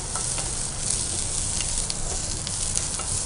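Green and red chillies and curry leaves sizzling in hot oil, with mustard seeds and cumin in the pan: steady, close frying hiss with small pops and some stirring, no voices.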